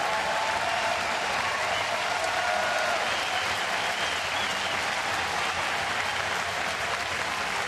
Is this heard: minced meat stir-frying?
no